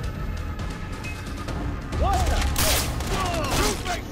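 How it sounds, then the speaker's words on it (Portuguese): Gunfire in the video game Far Cry 3 plays as a dense, noisy barrage of shots and blasts, with someone talking excitedly over the loud, continuous game audio. "Para de atirar em mim."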